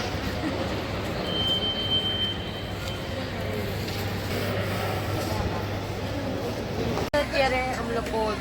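Inside a seated passenger train, a steady low rumble and hum carry on throughout, with voices talking over it and a brief clunk near the end.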